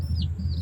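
Young chicken chicks cheep in a brief pair of thin high chirps close by, over a low background hum, with no talk.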